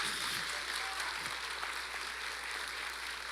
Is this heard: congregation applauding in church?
yes